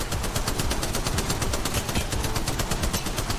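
Rapid automatic gunfire from a gun in Apex Legends Mobile, a dense, even stream of shots rattling continuously at close range with no pauses.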